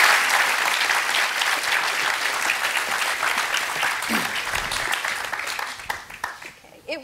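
An audience at a lecture applauds to welcome two speakers onto the platform, dense sustained clapping from a crowd that slowly thins out, with a voice beginning near the end.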